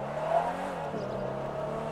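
Land Rover Defender engine in GTA 5, a steady low growling drone held at even revs with a slight dip midway, close and fairly loud with no voice over it.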